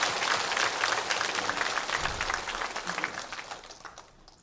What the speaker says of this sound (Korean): 오늘 저희 교회에 새롭게 오셔서 함께 예배드리시는 귀한 분들 환영하고 감사하는 뜻으로 박수를 한번 보내겠습니다